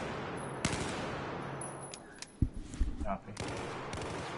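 Bursts of video game gunfire during a radar station attack crack out in a few sharp, separated shots over steady background noise, with a brief spoken voice in between.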